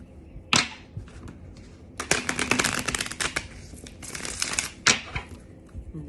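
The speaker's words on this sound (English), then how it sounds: "One more shuffle." Cards are riffled and shuffled in several quick bursts of crisp flapping, with a few sharp taps in between, close up and alone.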